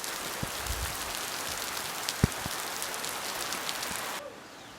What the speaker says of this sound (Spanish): cayó en este momento una tremenda lluvia otra vez